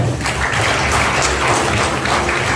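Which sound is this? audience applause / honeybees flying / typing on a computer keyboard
audience applause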